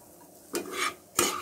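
Two short bursts of egg masala Maggi noodles being scraped and transferred from a pan onto another plate, close and fairly quiet, with utensil scrapes and no talking.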